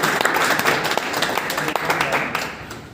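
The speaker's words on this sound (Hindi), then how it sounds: "आप सभी की एक बार जोरदार तालियों से उनको इन्वाइट करेंगे" Loud applause from a training-session audience welcoming achiever Madan Jaiswal, dense clapping sustained for about three seconds with some voices mixed in.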